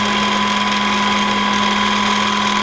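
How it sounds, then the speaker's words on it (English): A small drill bores through a wooden gun port lid for a model ship, a loud, steady high whine with a constant pitch held throughout. "so I've just drilled through it"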